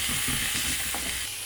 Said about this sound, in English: Add a generous sprinkling of thyme and stir well.